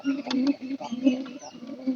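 Pigeons perched nearby give soft, low, repeated coos in short rolling phrases, close and steady with brief pauses between calls.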